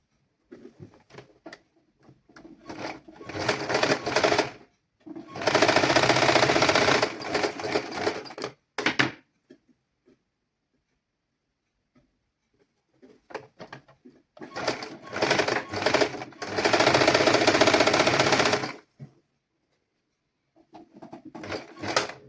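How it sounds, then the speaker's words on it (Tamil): A sewing machine stitches a pleated frock in two long, steady runs of rapid mechanical whirring, each broken by short stops and pauses, with no talking. "இப்போ நாங்கள் தைச்சு முடிச்சது."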